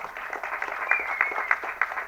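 Scattered applause from an audience, a modest cluster of hand claps with a few sharper individual claps popping out at a steady pace, fairly close and without speech.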